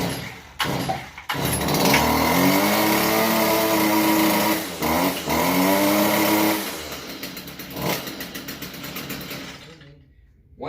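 A Stihl FS 38 grass trimmer's small two-stroke engine fires after a pull-start and runs at a high, buzzy pitch that rises and falls with the throttle, loud and close, with brief gaps and someone talking.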